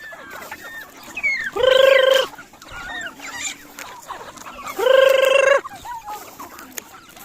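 Chickens cluck and squawk nearby on a free-range farm with turkeys, two loud, drawn-out honking calls rising above the scattered clucking of a flock outdoors.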